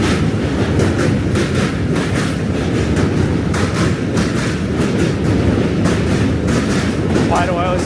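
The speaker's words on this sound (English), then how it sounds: "Another train." A train passes in New York City with loud, continuous rumbling and rhythmic clickety-clack from the wheels, close by, with a brief squeal near the end.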